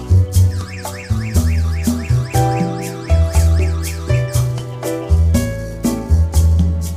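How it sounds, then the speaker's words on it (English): A burglar alarm set off by an infrared motion detector blares loudly, its electronic siren cycling through repeating warbling, sweeping tones in a steady rhythm with no voices. "After arming, the infrared detector can trigger the alarm when it senses the human body."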